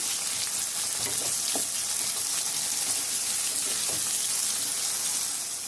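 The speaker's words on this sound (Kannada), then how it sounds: "ಈರುಳ್ಳಿ ಚೆನ್ನಾಗಿ ಫ್ರೈ ಆಗಲಿ." Onions frying in a pan for tomato gojju, giving a steady soft hiss with occasional stirring taps, moderately quiet and close, with no voices.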